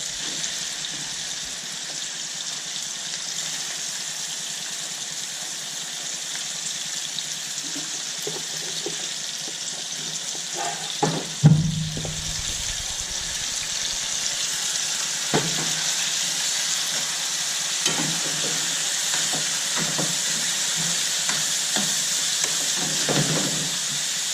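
Shrimp pasta tossed into a pan of sauce, a steady close sizzle and bubbling with scrapes and stirring knocks of the utensil against the pan, a louder clatter midway as the pasta goes in.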